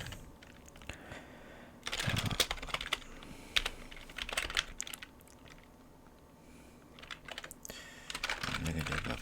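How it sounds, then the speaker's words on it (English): Fingers type code on a computer keyboard in quick, uneven bursts of clicky keystrokes with short pauses between, close and fairly quiet, with faint background noise beneath. "I'm going to type in the rest of our code right now."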